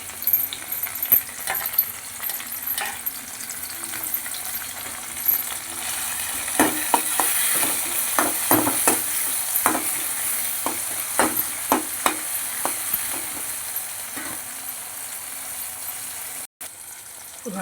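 Two chopped tomatoes frying in a pan with onion, a continuous close sizzle broken by repeated scraping and clacking of a spatula stirring the mixture, with no talk.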